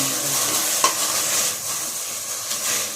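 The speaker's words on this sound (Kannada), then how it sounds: "ಈ ರೀತಿ ಫ್ರೈ ಮಾಡ್ಕೊಳ್ತಾ ಇದ್ದೀನಿ ಕೊತ್ತಂಬರಿ ಸೊಪ್ಪು ಹಾಕ್ಕೊಂಡಿದ್ದೀನಿ ಪಾಲಕ್ ಹಾಕ್ಕೊಂಡಿದ್ದೀನಿ" Spinach and coriander leaves frying in a pan, a steady close sizzle with a stirring clink near the start and soft scraping, no voices.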